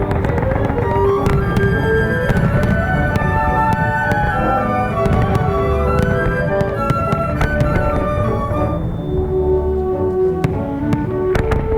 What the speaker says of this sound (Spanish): Los trons de Bach, les mascletaes o los fuegos artificiales de la nit del foc